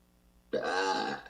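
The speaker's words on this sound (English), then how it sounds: "I do burp to release" A single long, loud burp rises abruptly from near silence and rumbles on for under a second before fading.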